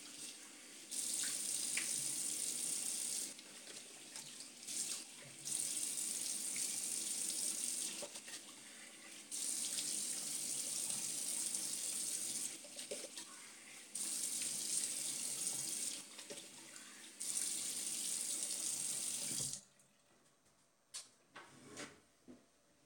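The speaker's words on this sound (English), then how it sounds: "Let me just rinse off real quick." Tap water runs into a sink during a rinse after shaving, a steady hiss of flow broken by brief pauses and shifts as hands move under it, then shut off, leaving faint handling noises.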